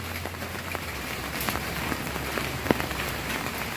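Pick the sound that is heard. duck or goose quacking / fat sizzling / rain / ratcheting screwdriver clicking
rain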